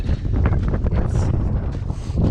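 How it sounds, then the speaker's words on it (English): Wind buffets the microphone outdoors: a steady, loud low rumble with gusty rustling throughout and no voices. "It's quite windy"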